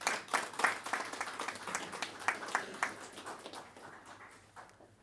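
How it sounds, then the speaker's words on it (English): Applause rises from an audience at a ceremony, with distinct individual claps in an uneven rhythm at moderate distance that thin out and taper to silence by the end. "hand of applause"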